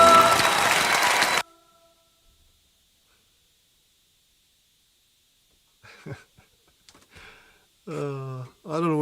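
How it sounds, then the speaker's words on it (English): A short burst of applause on a music backing track opens loud, cuts off into silence, and is followed later by a voice speaking. "it had that little bit of applause on it"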